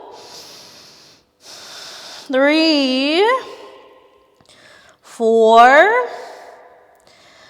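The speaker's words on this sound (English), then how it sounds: "Ujjayi breath, sound breathing." Ujjayi yoga breathing, slow audible breaths drawn in and out through a narrowed throat, close and fairly loud, alternating with a voice counting breaths during an Ashtanga practice.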